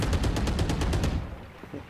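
Rapid automatic gunfire in a video game, a fast even burst of around a dozen loud shots that stops abruptly, followed by a few softer thuds and quieter game sound.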